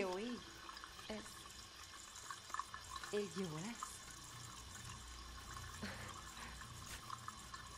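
Running water fills a bath as a steady, soft hiss of flow, heard under intermittent quiet voices.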